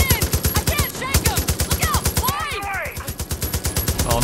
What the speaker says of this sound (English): Try shooting the tires out!